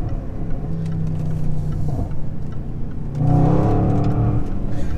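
A powerful 2016 Overfinch Range Rover SVR engine revs and accelerates, the roar swelling louder partway through, heard from inside the vehicle.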